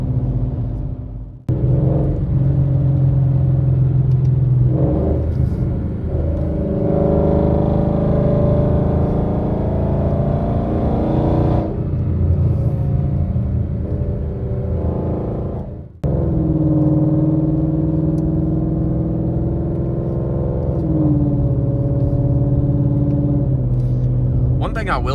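A car fitted with a Roush axle-back exhaust rumbles deep and steady under continuous talk, the engine note swelling and easing across several long stretches with brief gaps between.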